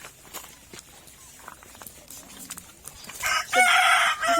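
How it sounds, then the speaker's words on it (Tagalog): A rooster crows loudly and close near the end among free-range chickens on a farm, after a few seconds of quiet clucks and scuffling footsteps. "Free range chicken."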